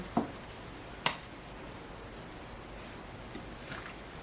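A spoon stirs cucumber salad in a bowl, giving two quick, light clinks early on, then only quiet background.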